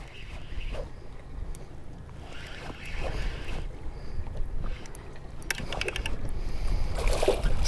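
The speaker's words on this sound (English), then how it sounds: "Just drifting over them and popping the motor in reverse just to keep us vertical so we can see our lure." An outboard fishing-boat motor briefly popped into reverse while drifting on a lake during lake trout jigging, a low rumbling churn that swells and fades under wind and water noise, with mechanical clicks near the end.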